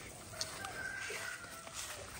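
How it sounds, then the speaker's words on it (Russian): Chickens cluck faintly in a yard, a few soft scattered clucks and calls at a distance over low background noise. "Потому что куры прям пешком заходят и делают мне черти что тут"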